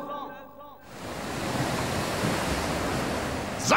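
Wind blowing in Dynasty Warriors 3 at the battle of Chi Bi, a steady, loud broadband rush that swells in after a short voice and holds evenly to the end.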